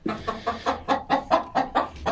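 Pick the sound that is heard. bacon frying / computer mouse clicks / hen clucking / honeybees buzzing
hen clucking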